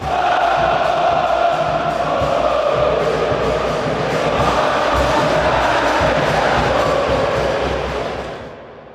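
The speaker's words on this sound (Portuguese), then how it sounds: "quando a torcida começa a cantar, cria uma atmosfera gigante" Fluminense football supporters sing together in a packed stadium, a loud, dense crowd chant holding steady for several seconds before fading away at the end.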